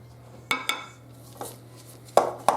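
A utensil clinks against a mixing bowl as lemon loaf batter is stirred together with vegetable oil: four or five sharp, separate taps spread unevenly across a quiet background, with no talking.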